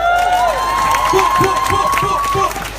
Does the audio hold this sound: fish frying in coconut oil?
no